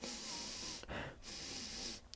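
A person vocally imitates their own loud, snorting, pig-like breathing, with two rough, wheezy bursts separated by a short pause, close and alone without talk.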